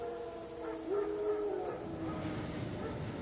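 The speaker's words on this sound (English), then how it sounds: "Wild dogs. Yes. More dangerous than wolves." Wild dogs in The Witcher 3 video game give a drawn-out howl with a few yips around it, moderately loud over a steady game ambience, with no talking.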